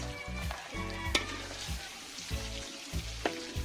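Onions sautéing in a pan give a soft, close sizzle with light stirring clicks and small crackles, fairly quiet and even, with no talking.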